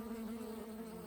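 A queenless honeybee colony hums in a steady, close, even drone with no pauses, heard alone without voices.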